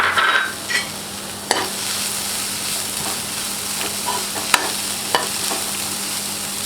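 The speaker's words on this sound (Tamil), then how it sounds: "இந்த தேங்காய் துருவலில் அந்த நெய்யில் நல்லா வணக்கிக்கலாம்." Grated coconut sautéed in melted ghee in a pan for a sweet kolukkattai filling, with a steady soft sizzle and occasional scraping stirs of the spoon, close and without talk.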